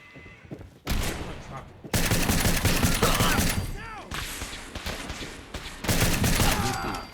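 Rapid gunfire in Fallout 4, bursts of loud automatic shots and fusillades breaking out in several waves, close and punchy, with short quieter gaps between volleys and some game effects.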